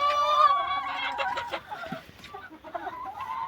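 Chickens cluck and squawk close by inside a summer coop where they shelter from frost and wind in winter, with several overlapping calls that are loud at first and then quieter.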